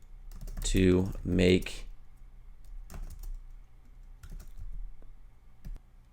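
Computer keyboard typing, with a short burst of keystrokes at the start under a brief spoken voice, followed by scattered separate key clicks at close range.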